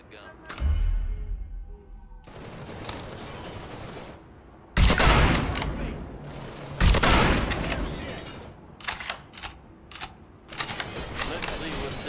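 Bursts of automatic gunfire and sharp single shots ring out in the Mafia 3 video game, clustered in loud volleys with pauses between, while voices talk over the action.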